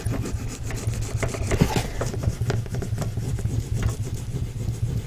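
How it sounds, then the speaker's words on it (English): Paper card stock is rubbed firmly against a glued piece, producing close, repeated scraping strokes over a faint steady low hum, with no talking. "burnish, burnish, burnish."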